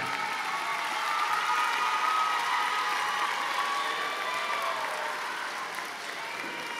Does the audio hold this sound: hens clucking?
no